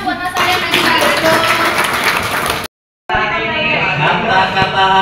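Audience applause for two guests at a live Indonesian show, a dense sustained clapping crowd that breaks off briefly mid-way and then resumes just as strong.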